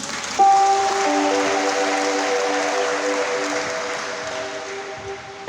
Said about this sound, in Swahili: Pokea kwa makofi